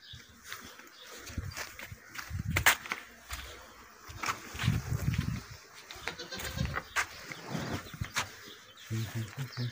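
A goat that has just given birth on a farm bleats again and again in uneven bursts, fairly close, with other low animal sounds and stirring between the calls.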